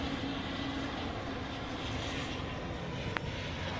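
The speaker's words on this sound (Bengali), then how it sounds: "এগিয়ে আসছে US বাংলা এয়ারলাইন্সের ATR মডেলের এই বিমানটি নামার জন্য।" A US-Bangla Airlines ATR turboprop airliner approaches an airport to land, its engine drone a steady, fairly faint distant hum over open-air background noise.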